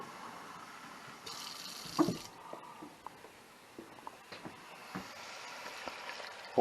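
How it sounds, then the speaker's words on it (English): A faint tap runs water into a cup in a home kitchen while BBQ country-style ribs and potatoes are being made, giving a soft, steady trickle broken by a few small clinks and splashes. "I just grab a cup, run a little water in it."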